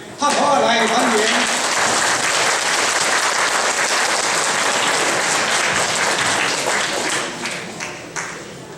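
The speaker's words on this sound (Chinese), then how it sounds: "咱现在来拍手来欢迎。" A large audience at a Double Ninth Festival gathering of a Taiwanese seniors' association in Northern California claps loudly to welcome a speaker, a thick, full burst of applause that tapers off near the end, with a voice speaking over it.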